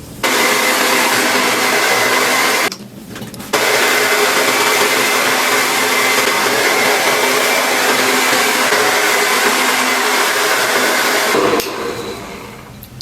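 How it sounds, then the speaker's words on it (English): Hair dryer blowing on the ends of hair, a loud continuous whooshing roar close up with a brief drop in airflow near the start and a fade at the end. "I'm going to dry the ends of my hair."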